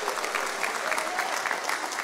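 Congregation clapping steadily during a church worship service, a dense continuous wash of many hands at moderate loudness with no talk over it.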